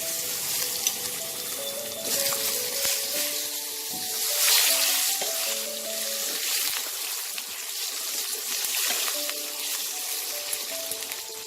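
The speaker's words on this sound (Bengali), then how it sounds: "আলুটা একটু লাল করে ভাজবো।" Steady crackling sizzle of potatoes frying in hot oil, continuous throughout, with faint clinks and soft kitchen noises over the top.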